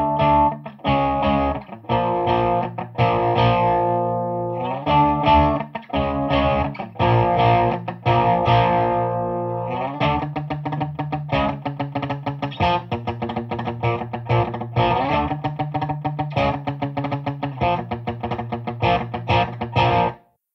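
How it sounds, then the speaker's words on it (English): Electric guitar on a clean amp setting driven through an OGRE Thunderclap distortion pedal, playing loud sustained distorted chords and riffs with steady strummed rhythm throughout, no talking. "but I'm just using the Thunderclap distortion."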